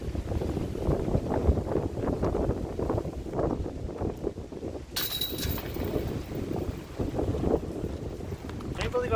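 Wind gusting across an open disc golf course, buffeting the microphone in a loud, continuous rumble, with a brief clink of a disc and some speech-like sounds under the noise.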